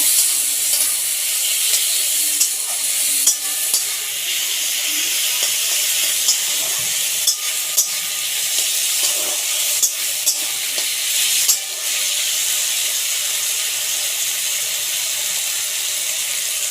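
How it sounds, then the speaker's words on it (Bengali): Chicken and chickpeas sizzle steadily in a pan as ginger is stirred in, a constant bright hiss with occasional scraping and clinking of the spoon, no voices. "আদা দিয়ে দিলাম ভালো করে এটা নেড়ে চেড়ে নেব"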